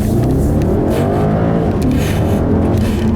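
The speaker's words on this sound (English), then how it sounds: "you do get a whole lot of engine noise" A 2012 Audi S5 V8 accelerating hard on a back road, heard from inside the cabin as a steady, loud, rumbling engine roar with no talk.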